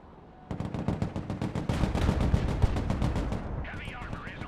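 Tank guns firing kinetic penetrator rounds in the Broken Arrow war game, heard as a dense, loud run of rapid cannon and gun blasts that starts abruptly and rumbles on, ending in a rising whine.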